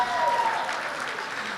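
Audience clapping at a political event, steady dense applause from a large indoor crowd, moderately distant and even throughout, with no speech over it.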